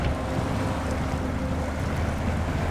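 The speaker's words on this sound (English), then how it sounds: "And we're going to go through this deeper water here." An off-road vehicle with a high-mount snorkel wades through deep muddy water, giving a steady, loud, low rumble of churning water and engine with no break.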